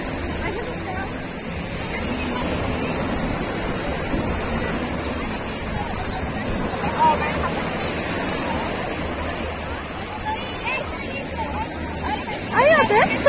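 Ocean waves at a beach make a steady, broad wash of surf throughout, with people talking and calling out over the constant rush of water.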